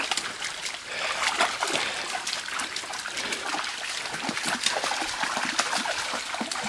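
A husky splashes and paddles through waterfall pools, its steady wet splatter and churning water continuous and close, with rushing water filling the background.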